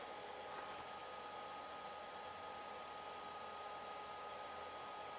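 A Solectria AC24 electric motor runs on a test bench, giving a steady, even, airy whir with a faint whine and no change in pitch throughout.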